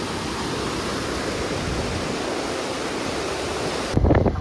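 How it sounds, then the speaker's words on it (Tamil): Steady, broadband rush of rain-fed stream water flowing fast close by on a forest road near Valparai and Athirapally, continuous throughout with a brief louder splash near the end. "பாருங்க தண்ணி பயங்கரமாக போகுது"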